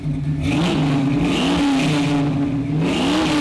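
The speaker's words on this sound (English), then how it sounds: "All right, we got a little bit of rumble." Loud, steady V8 rumble from a 1969 Chevrolet Camaro RS/SS Pro-Touring with a 572ci engine, idling up close. It throbs deep and even, with slight swells in pitch.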